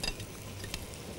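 Marinated mutton chops roasting on a hot tawa give off a steady close sizzle with occasional scraping and stirring clatter, no voices over the brief stretch.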